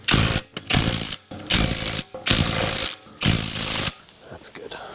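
A ratchet wrench tightens brake caliper bolts on a 2003 Toyota 4Runner during a brake pad and rotor replacement, giving five loud, close bursts of rapid clicking separated by short pauses.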